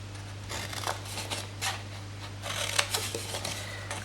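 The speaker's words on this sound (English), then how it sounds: "bring in the scissors and we are just going to trim along the bottom up each of these score lines" Scissors trim paper cardstock along score lines, giving a few short crisp snipping and rubbing bursts at close range over a steady low electrical hum, with no talking.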